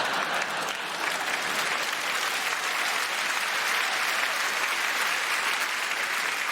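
A stand-up comedy audience gives sustained, dense applause that stays loud and even throughout, with no voices rising above it.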